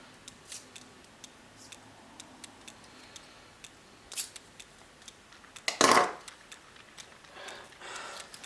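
Tape being pulled open on a LEGO Super Mario Series 2 character pack, heard as a bright rip near the middle among soft scattered plastic ticks and rustles, close and fairly quiet with no talking.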